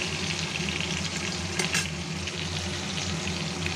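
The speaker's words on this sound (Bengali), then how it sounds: "মাছটা ভাজা হোক" Hilsa fish pieces coated in spice paste fry in hot oil, giving a steady dense sizzle and crackle that runs throughout, close and fairly quiet, with a brief louder spatter midway.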